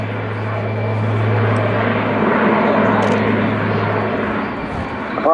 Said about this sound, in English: Apart from this being a new aircraft, it's also got new engines, 4 Europrop International TP400 D6s.